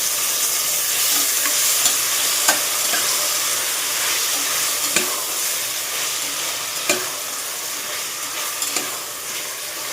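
Ginger garlic paste sautéing with salt in a pan for paneer masala pulao, a continuous close hissing sizzle broken by occasional light clicks and scrapes of stirring.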